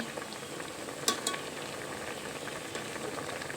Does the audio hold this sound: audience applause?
no